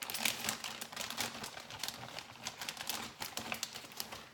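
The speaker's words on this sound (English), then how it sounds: "I'm going to tuck this right into the bottom corner of the zipper bag" Cilantro wrapped in paper towel pushed into the bottom corner of a plastic zipper bag, giving close, steady crinkling and rustling with small sharp crackles throughout, no talking.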